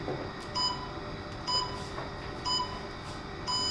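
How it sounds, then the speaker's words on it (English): A workout interval timer beeps four times at roughly one-second intervals, short bright tones ringing over a steady background hum as a plank exercise begins. "So I'll just start the timer."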